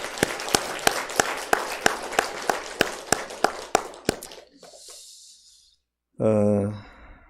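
A church congregation at a Sunday service claps in a steady, unified rhythm, about a dozen sharp beats, then falls quiet before a voice begins speaking close by.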